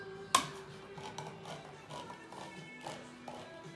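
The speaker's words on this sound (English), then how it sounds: "I'm gonna open my cannellini beans" A can of cannellini beans being opened in a kitchen, with one sharp metallic pop followed by a series of soft scraping taps and clinks.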